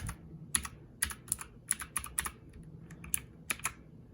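Clicky key presses on a DIERYA DK63 mechanical keyboard, a dozen or so sharp, close taps at an uneven typing pace, quiet overall, with no talk.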